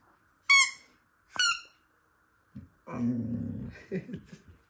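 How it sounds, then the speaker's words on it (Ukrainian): Two sharp, high squeaky yelps from a dog, then a pause followed by low grumbling growls and soft whimpers, close and clear. "Это чужая собака."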